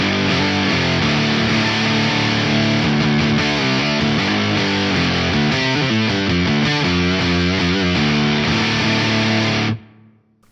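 Fuzz pedal bassline tone with no delay, thick and heavily distorted, played as a loud continuous riff of shifting notes that stops abruptly near the end, leaving silence.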